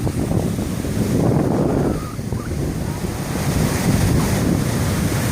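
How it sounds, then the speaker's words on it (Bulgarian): A stormy sea with high waves around three metres, heard from a beach: loud continuous surf roar with heavy wind buffeting the microphone throughout. "Много бурно море, много."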